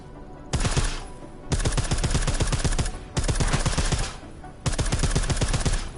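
Silenced gunfire in Deus Ex comes in four rapid bursts of suppressed shots, each lasting about a second with short pauses between, loud and close with no talk.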